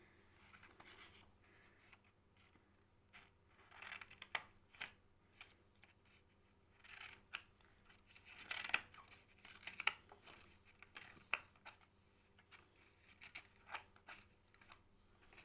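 Scissors snip and crunch through stiff cardboard in irregular bursts of crisp clicks, close up, with quiet pauses between cuts.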